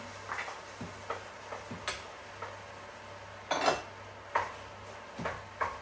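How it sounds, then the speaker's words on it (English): A wooden spatula breaks up plum tomatoes in a cooking pan, making soft, irregular clacks and scraping taps that are scattered and fairly quiet, with no voices. "I'm just breaking up those plum tomatoes with my wooden spatula"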